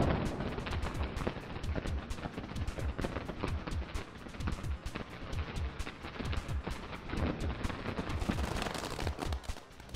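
Diwali firecracker bombs burst in a dense, continuous barrage of loud, rapid explosive cracks and pops, overlapping without pause throughout.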